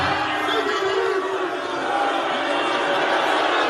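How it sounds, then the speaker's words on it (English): A concert crowd at a show boos the lead singer, a dense, continuous roar of many voices filling the space at steady loudness throughout. "The crowd started booing him because he wouldn't play SpongeBob."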